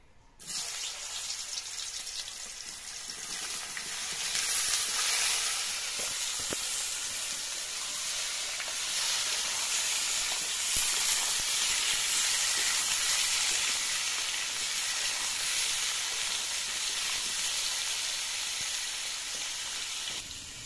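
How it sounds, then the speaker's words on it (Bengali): Loud, continuous sizzling of jackfruit pieces frying in hot oil, a steady dense crackle that holds throughout with no voices. "ভাজা হয়ে গেলে এবার কাঁঠালগুলো ভেজে নেবো"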